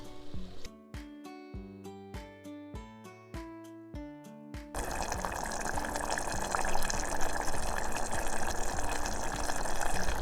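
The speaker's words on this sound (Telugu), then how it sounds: "ఒక సగం గ్లాస్ వాటర్ పోసుకుందాం" Half a glass of water is poured into a pot of taro root (chamagadda) pulusu curry, a continuous rushing gush that follows a few seconds of plucked musical notes and fills the rest of the clip.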